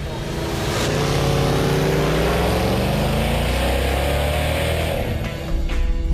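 Off-road race vehicle engines roar together at the start of the Baja 1000, a loud sustained growl with rising engine tones that holds steady for several seconds before dropping slightly near the end.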